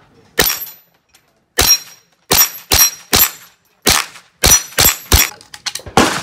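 Rimfire Volquartsen pistol shots ring out at close steel targets, about a dozen sharp cracks in irregular bursts with quiet gaps, the pace quickening toward the end.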